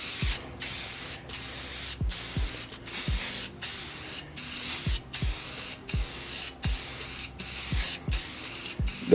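Rust-Oleum gloss white spray paint applied to a ceramic tile in steady repeated hissing bursts about once every second, close and even, each spray followed by a brief gap.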